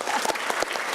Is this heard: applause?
yes